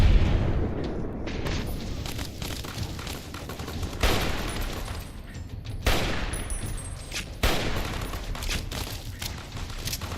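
Bursts of gunfire and booming shots in Fallout: New Vegas, with the companion Boone shooting at a Legion death squad; several loud volleys strike at intervals over a continuous rumbling background of combat.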